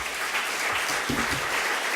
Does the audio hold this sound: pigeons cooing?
no